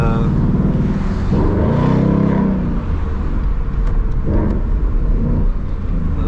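A Ford Mustang GT 5.0 Premium engine and exhaust rumble heavily from inside the moving car, a deep steady drone with a swelling rev partway through, while people talk over it.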